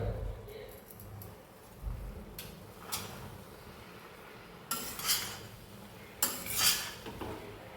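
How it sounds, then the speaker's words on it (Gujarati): Puffed rice and spices are stirred together in a pan for mamra khichadi, producing intermittent metallic clinks and scrapes of a spoon against the pan in short clustered bursts, with someone talking in between. "હવે મિત્રો મમરાને અને આપણા મસાલાને સરસ મજાના એક રસ કરી દઈશું."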